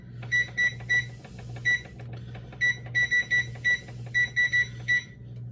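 Short electronic beeps come from a kitchen timer being set while eggs boil, irregular quick bursts of loud bright tones over a low steady hum.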